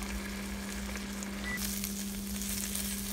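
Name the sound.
Italian chicken sizzling in a hot pan as dressing cooks out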